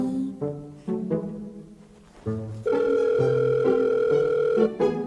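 A steady electronic phone tone holds for a couple of seconds after a few shorter tonal blips, an unanswered call going to voicemail, clear and close with no talking.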